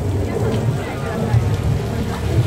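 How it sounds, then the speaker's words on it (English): Simulated flash-flood rain pours onto the Universal Studios Hollywood backlot on the studio tour, a steady close splashing patter under the murmur of a crowd. "Al Roker just predicted a flash flood, and it started raining"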